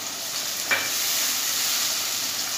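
Masoor lentils frying in a pan for masoor aloo pulao, a constant soft sizzle with one brief stirring scrape, close and steady, no voices.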